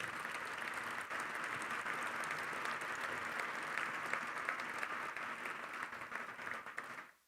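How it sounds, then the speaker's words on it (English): Sustained applause from an audience at an anniversary tribute honoring veterans, steady and full for several seconds before cutting off abruptly at the end. "If we can give them a round of applause again,"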